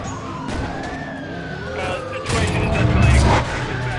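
Police car sirens wail in the Need For Speed Undercover racing game, with rising and falling tones over engine and road noise that grows louder toward the end.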